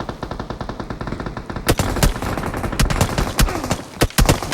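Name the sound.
gunfire from afar in a battle royale video game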